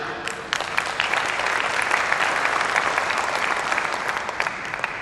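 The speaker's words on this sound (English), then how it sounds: "I don't know why you just clapped" Audience applause at a youth football league banquet, a steady crowd of clapping hands filling the room for several seconds at moderate loudness.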